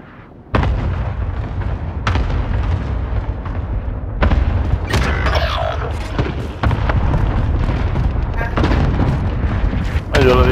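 Heavy gunfire in Call of Duty: Modern Warfare, loud booming shots and blasts in irregular bursts over a dense rumbling background.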